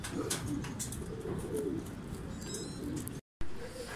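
Racing pigeons coo softly but steadily at a loft as race birds arrive, with a brief dropout near the end.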